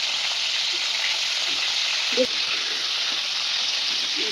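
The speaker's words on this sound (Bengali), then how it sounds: "হালকা করে ভাজলে হবে, বেশি করে শক্ত হয়ে যাবে" Large prawns frying lightly in a pan give a steady, close hiss of sizzling oil with faint stirring clicks, heard alone without talk.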